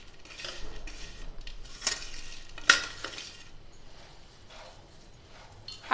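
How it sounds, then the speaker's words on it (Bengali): Pieces of gond, an edible gum, crushed lightly by hand for gond laddoo, giving a few scattered brittle crackles and crunches up close, with no talking. "এগুলো গোঁদগুলো আমি হাতের সাহায্যে এইভাবে হালকা একটু ক্রাশ করে দিচ্ছি।"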